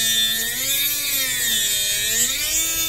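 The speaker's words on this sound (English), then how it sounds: "where to start drilling." A power drill whines loudly and continuously while drilling for motor mount hardware on a twin hydroplane model boat, its motor pitch wavering up and down as it bores, close by.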